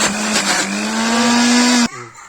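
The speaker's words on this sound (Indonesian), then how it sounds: "Kemudian kita masukkan tahunya ke dalam blender karena ini kita mau haluskan menggunakan blender." A kitchen blender purees tofu with a loud, steady motor whine for almost two seconds, then cuts off abruptly, leaving a brief quieter tail.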